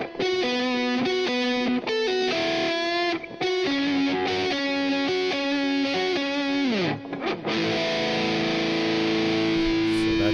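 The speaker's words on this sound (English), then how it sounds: "That's a newer distortion setting I have." Electric guitar run through a distortion preset in the BIAS FX amp-modelling app, playing loud, saturated chords and sustained notes with effects shimmer, ending on a long ringing note, with no talking.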